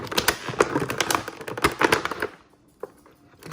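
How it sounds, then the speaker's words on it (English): A Mrs. Potato Head toy package is unwrapped by hand, giving close crinkly rustles and sharp tape tearing pops for about two seconds before it drops to quiet with a single faint tick. "I'm gonna unwrap it here. This will be a little tape there."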